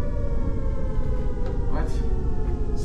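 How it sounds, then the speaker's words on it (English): Sirens wail outside, a steady loud drone of layered tones rising and falling slowly under a dense rumbling wash. "Why are there, like, sirens?"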